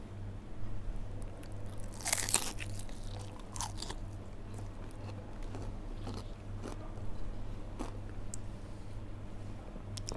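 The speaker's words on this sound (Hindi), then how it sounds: "बहुत ही क्रंची और बहुत ही टेस्टी फ़िश है" Close biting and chewing of crispy fried fish with garlic sauce: a sharp crunch followed by repeated softer crunches and chewing sounds, no talk.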